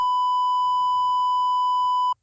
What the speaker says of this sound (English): A triangle wave is similar to the square wave in its composition and sound